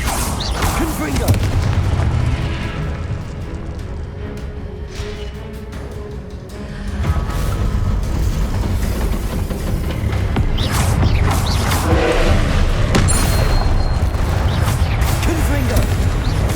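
Booming spell explosions and continuous rumbling combat in Hogwarts Legacy, loud and dense throughout with a brief dip before a heavy blast resumes, a voice shouting spell names over it.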